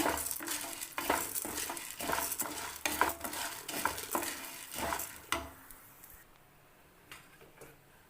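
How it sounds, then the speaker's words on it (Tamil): Ingredients fry in a pan while a utensil stirs and scrapes them in quick, clattering strokes, busy at first and then thinning to a quieter sizzle with occasional taps. "இதையும் நல்லா சிவக்காக வறுத்துக்கோங்க."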